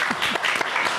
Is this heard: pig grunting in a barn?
no